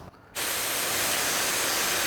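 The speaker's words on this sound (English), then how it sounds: "they'll really just spray directly down onto the foam" Spray adhesive for a car headliner repair hisses in a loud, steady continuous blast onto foam, starting suddenly after a brief quiet moment and running unbroken.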